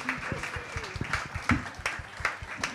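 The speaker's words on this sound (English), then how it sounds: "please give a huge round of applause to Charlotte and Theo." Studio audience at a live broadcast from the Sundance Film Festival: London 2023 applauds with scattered, uneven claps of moderate loudness, fairly near, with faint voices mixed in.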